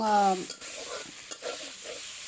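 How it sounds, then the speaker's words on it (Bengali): Stinging catfish (shing fish) being stir-fried in a pan, a steady sizzle broken by several short scraping stirs, preceded by a brief tonal hum at the start. "শিং মাছ দিয়ে খুব ভালো করে কষাতে হবে"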